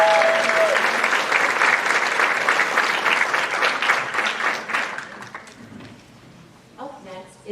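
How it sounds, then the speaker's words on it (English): An audience at a school academic awards assembly gives a sustained round of applause that gradually fades, and a voice begins speaking at the very end. "So let's give them all a round of applause."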